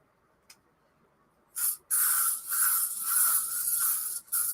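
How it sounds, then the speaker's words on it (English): A short aerosol burst, then a longer steady hissing spray with slight pulses, close up and loud, in an otherwise quiet room. "I gotta spray myself with the bug spray"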